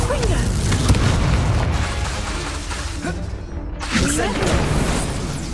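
Confringo spell blasts from Hogwarts Legacy land as heavy, booming explosions, two large bursts a few seconds apart over a rumbling game soundscape with a voice talking.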